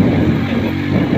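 A motorcycle engine drones low and loud close by on a farm outing, with wind buffeting the microphone throughout.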